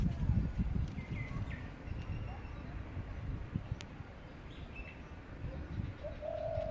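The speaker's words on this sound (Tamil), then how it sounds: "அந்த பேர்ட் நண்பர்களே கிட்டத்தட்ட ஒரு 2 ஹவர்ஸாக அந்த மாதிரி சவுண்டு கொடுத்துட்டே இருக்கு" A greater coucal, also called a cuckoo or semputhu bird, calls outdoors in repeated deep, hollow coos. Faint chirps and a steady background rumble sit beneath the calls.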